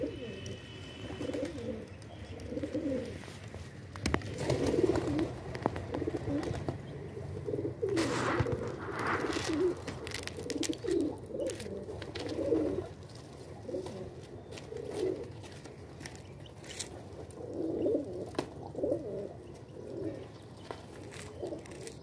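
Soft, repeated coos of wild pigeons in low rounded phrases, recurring steadily over a faint outdoor background with occasional rustles.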